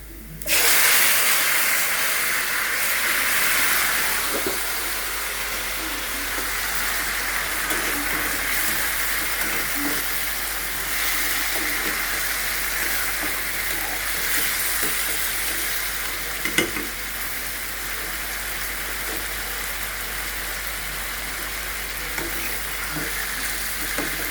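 Mixed vegetables fry with spices and browned onions in a pan, giving a strong continuous sizzle with a steamy hiss, plus scattered stirring scrapes and a few clinks.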